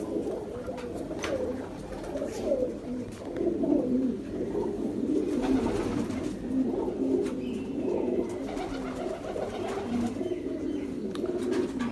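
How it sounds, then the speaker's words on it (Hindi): A Ferozpuri pigeon coos in repeated low, throaty rolling phrases, close and fairly steady, with faint background noise and no one speaking. "बड़ा शानदार कबूतर है जी,"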